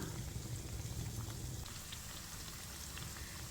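Cabbage vada deep-frying in hot oil, a steady close bubbling sizzle that holds an even, unbroken hiss throughout without any voices.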